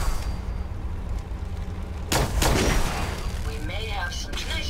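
Bursts of gunfire in Fallout 4 crack out in a loud cluster midway, followed by electronic game tones and rising whines, with a player talking over the action.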